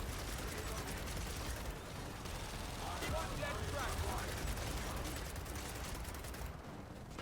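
Tri-Gun gunfire from enemies in the Gears of War 4 video game, a dense, continuous rattling barrage with mechanical clatter, steady and fairly faint throughout.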